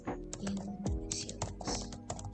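Keys tapped on a computer keyboard while typing text into MS Word, a quick irregular run of clicks with a louder cluster near the end, close and alone with no talking.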